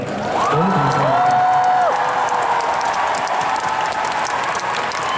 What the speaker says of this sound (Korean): 오늘 대구에서 정말 최고의 함성 소리를 들은 것 같습니다